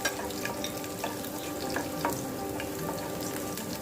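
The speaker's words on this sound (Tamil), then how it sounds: "பூண்டை வந்து கொஞ்சம் வாசனை வர வரைக்கும் எண்ணெயில் வதக்கி விட்டுக்குவோம்." Peeled garlic cloves sautéing in hot oil for a fish kuzhambu, a steady close sizzle with faint stirring scrapes and small pops, no talking.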